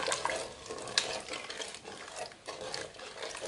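Pear jam mixture being stirred in a Cookeo electric pressure cooker, giving a soft, steady scraping and swishing with small wet clicks, close and fairly quiet, without any talk.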